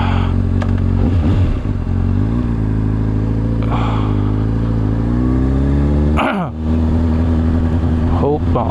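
Honda CBR600RR motorcycle being ridden, a loud close engine drone with rising and falling revs, gear changes and wind noise throughout.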